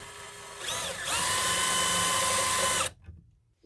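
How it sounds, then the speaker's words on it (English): A power drill whirs up to full speed drilling a pilot hole in a Ram ProMaster van, running steadily for about two seconds, then cuts off abruptly. "you're going to want your drill"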